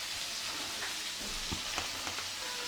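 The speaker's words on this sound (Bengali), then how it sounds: "এখন আমার পটল আর আলু কিছুটা ভাজা হয়ে গেছে" Pointed gourd and potato pieces fry in a pan, a steady close sizzle crackling throughout with a few sharper pops and stirring clinks, no talking.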